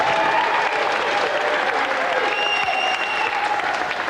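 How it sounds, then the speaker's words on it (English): Studio audience applause on a 1990s video game TV show, a loud, continuous roar of clapping that holds steady for several seconds. "Round of applause again for Nick."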